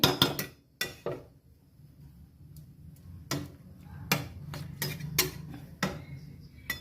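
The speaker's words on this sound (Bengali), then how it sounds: "এবার আমি ঢাকা দিয়ে দিলাম" A lid goes onto a cooking pot of prawn and vegetable curry, giving sharp metallic clanks and taps, several close knocks at the start and again later, set against a quiet kitchen background.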